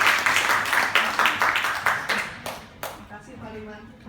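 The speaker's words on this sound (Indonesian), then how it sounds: "kita beri tepuk tangan buat Ibu Sinta" Audience clapping at an evening business presentation in Indonesia, a group applauding with steady rhythmic claps that fade out, followed by a voice starting to talk.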